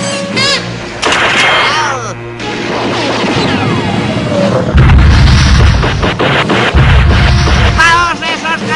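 Heavy booms of cannon fire crash repeatedly amid a loud, chaotic din of shouting voices and clattering impacts, close and overwhelming.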